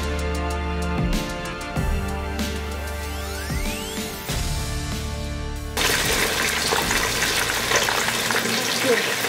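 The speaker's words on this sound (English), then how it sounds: "I'm about to fry the plantain now" Plantain frying in hot oil, a steady sizzle with clinks and stirring sounds early on, then a sudden louder burst of crackling spatter that continues to the end.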